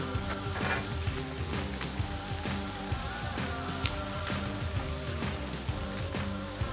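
Onions, zucchini and yellow squash sizzle on a hibachi griddle with a steady close crackle and popping, plus occasional scrape-like ticks of stirring throughout.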